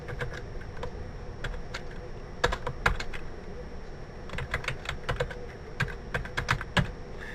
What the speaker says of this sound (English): now we're going to type in text shadow